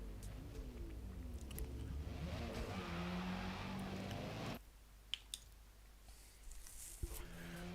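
Mazda MX-5 racing in Forza Motorsport: a sustained engine drone under acceleration for about four and a half seconds, then cutting off sharply to quiet game ambience with a few faint clicks.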